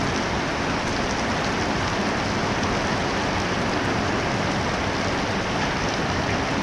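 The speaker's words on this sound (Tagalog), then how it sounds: "lakas ng ulan" Heavy rain pours down on a passenger ship in a dense, unbroken hiss of water striking the surfaces close by, loud and steady throughout with no voices.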